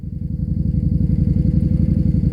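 Yamaha V Star 650 V-twin motorcycle engine idling up close, a loud, deep, steady lumpy throb with an even pulsing rhythm that rises slightly in intensity.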